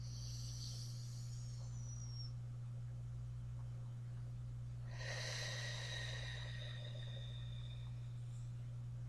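Two slow breaths are heard during a deep breathing exercise. A faint airy inhale comes first, then a louder, longer exhale pushes the air out, all over a constant low electrical hum.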